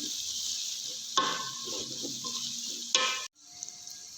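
Whole dry red chillies and coriander fry in hot fat in a pot for beef yakhni polao, a steady close sizzle with occasional metal stirring clatter, then the sizzle briefly cuts out and resumes more quietly.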